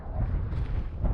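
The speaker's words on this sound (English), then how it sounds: "There's a breeze, but nothing more than that." A steady breeze on a mountain summit at a wild camp buffets the microphone with a low, continuous rumble and no other sounds.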